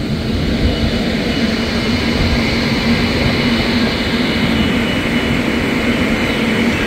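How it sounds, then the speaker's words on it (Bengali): The Rupasi Bangla Superfast Express is shunting at Santragachi, and a steady rail rumble runs throughout with a low drone and a constant mechanical hum, loud and close, with no speech. "আমাদের ট্রেন নম্বর 12883 সাঁতরাগাছি পুরুলিয়া রূপসী বাংলা সুপারফাস্ট এক্সপ্রেস কিন্তু শান্টিং হচ্ছে।"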